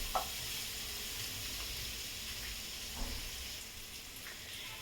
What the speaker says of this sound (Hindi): हींग, जीरा, अदरक, लहसुन, मिर्चा अच्छी तरह भून चुका है।